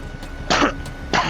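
Two short, loud coughs close to the microphone, about half a second apart, with nothing else around them.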